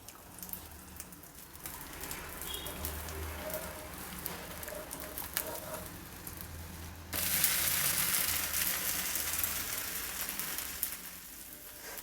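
A dosa fries in oil on a hot pan over high flame, giving a steady crackling sizzle that swells sharply louder partway through and then settles, with faint kitchen clinks underneath.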